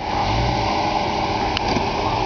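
A car engine revving steadily up close, with a continuous mid-pitched drone and a slight shift partway through as it changes gears, no voices heard.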